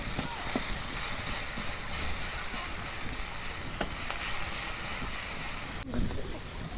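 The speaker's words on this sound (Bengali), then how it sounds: "পেঁয়াজের বেরেস্তা ভাজতে গেলে মেলা টাইম লাগে, লাহে লাহে জাল দেন লাগবো আর লাহে লাহে ভাজে না লাগবো।" Sliced onions slowly frying in oil over a gentle flame for chicken biryani in a village kitchen, giving a continuous close hiss and sizzle with a couple of brief clicks and a short utensil knock near the end.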